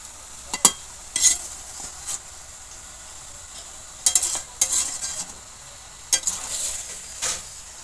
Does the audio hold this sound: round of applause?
no